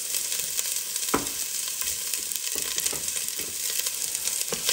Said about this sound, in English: Let's go ahead and saute these for a minute or so, just until translucent.